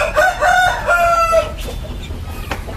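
A rooster in a backyard pen of kampung and Bangkok chickens, among sorted males, crows loudly and close by in one long call, followed by quieter clucking and pen noise.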